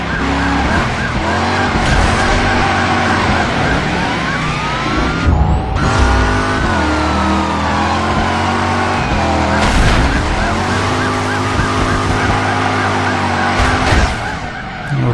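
A car chase in the Driver San Francisco video game, with engines revving through gear changes, tires screeching in long skids, and sirens wailing over it, loud and continuous with brief drops at shifts.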